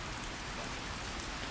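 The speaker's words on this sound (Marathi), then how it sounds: "हे बघा केवढा मोठा पाऊस आला, मस्त वाटतंय" Heavy monsoon rain pours down in Konkan, a dense, even roar of downpour with no break, loud and close, and no voices over it.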